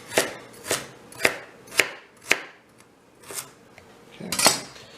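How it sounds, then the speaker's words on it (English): A knife chops vegetables, such as carrots, into a small dice on a cutting board for chicken fried rice, giving sharp, evenly spaced knocks, about one every half second, then a few looser taps and scrapes, close and without talk. "I'm going to just do a small dice with these"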